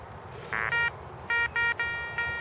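Metal detector out on a detecting hunt giving several sharp electronic beep tones in quick bursts, loud and close over a quiet outdoor background.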